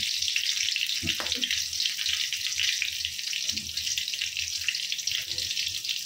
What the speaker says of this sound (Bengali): কাঁচামরিচ দিয়ে দেবো ফোড়নে।